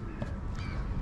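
Birds at Tjörnin, a large pond in Reykjavik, give a few harsh crow-like caws over a steady outdoor rumble, fairly close.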